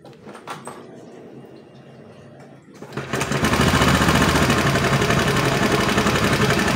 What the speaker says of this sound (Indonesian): coba teman-teman dengarkan suara kasar yang ada pada motor ini